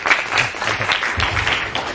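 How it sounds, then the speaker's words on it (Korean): Audience applause at a school admissions information session in a high school, welcoming a visiting lecturer; steady moderate clapping from a room of students, with some murmured voices mixed in, over about two seconds. "자, 박수로 모시겠습니다."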